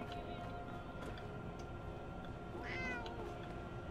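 A cat meows in the video game Fallout 4, one short rising call near the middle, faint against steady in-game background ambience.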